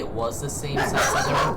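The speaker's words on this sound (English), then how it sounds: "Oh, sorry about the dog barking." A dog barks and yips in the background under someone talking, its sharp short barks mixed in with his steady speech.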